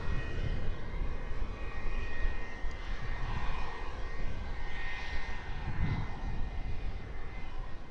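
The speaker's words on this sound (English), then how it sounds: "Wizz Air lined up, ready to go, off to Istanbul." A Wizz Air jet airliner sits lined up on the runway before takeoff, its engines a broad, steady rumbling roar heard from a distance, constant throughout with no voices.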